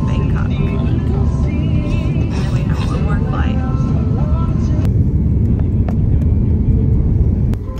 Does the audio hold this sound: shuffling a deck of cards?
no